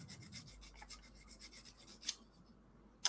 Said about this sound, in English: If I can find my filer. Just to make sure that there's no burrs on there.